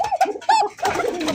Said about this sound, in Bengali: কি ভাই চারিদিক খালি কোকার ডাক।